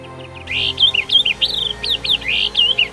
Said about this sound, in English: wake up in the morning with the chirping of birds